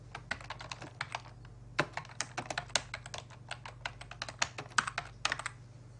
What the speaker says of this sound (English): I'm now using the keyboard to copy that address